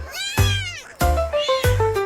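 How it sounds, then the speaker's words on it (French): A cat meows three times in a row, drawn-out and tonal with rising and falling pitch, close and fairly loud with short gaps between calls. "Miaulement de joie toute la nuit."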